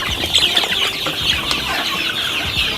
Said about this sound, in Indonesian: ayam petelur Elba